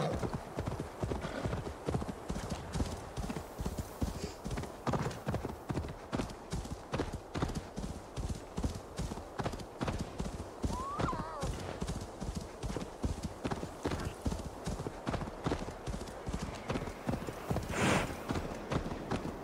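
A horse in Assassin's Creed Valhalla gallops with a steady, rapid clip-clop of hooves close by. A short whinny cuts in partway through and faint game voices sit underneath.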